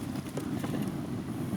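Wind blowing steadily outdoors at a breezy rural home, a continuous low rumbling gust against the microphone with no talking.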